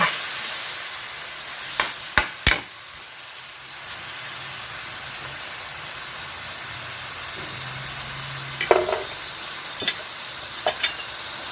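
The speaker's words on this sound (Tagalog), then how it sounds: "Ayan, prito nyo." Steady sizzling of marinated chicken liver frying in a pan, a continuous hiss with a few sharp clinks and stirring sounds, no voices.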